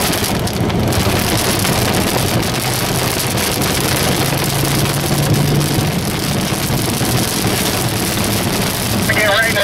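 Steady heavy rain pours down during a tornado chase near Dodge City, Kansas, a dense, continuous wash of noise filling the whole stretch, with faint voices and possible distant thunder beneath.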